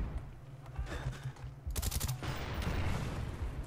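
Gunfire in the Black Ops video game, with a shotgun and AK, appears as a quiet rumble and then a short, dense burst of shots, fairly faint overall.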